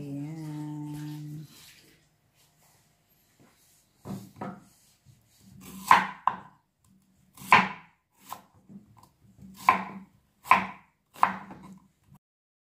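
Ginger being chopped with a knife on a board for a squash and bacon dish, a series of sharp, separate knife thuds close by after a brief hum at the start, with no talk.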